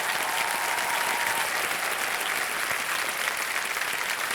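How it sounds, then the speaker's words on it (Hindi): Steady, dense studio audience applause fills the whole stretch on the set of the Indian TV quiz show Kaun Banega Crorepati, loud and unbroken with no voices on top. "तालियां"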